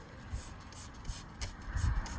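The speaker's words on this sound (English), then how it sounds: "I'm just spraying my gloves off a little bit." Water sprays in short, repeated hissing bursts as mud is rinsed off work gloves after cutting geodes with an angle grinder, close and fairly loud, with no talking.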